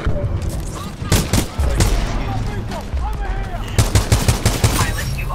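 Rapid gunfire in a multiplayer shooter game aimed at a cloaked enemy pilot, loud repeated bursts with a cluster of quick shots near the end, under ongoing talk and game noise.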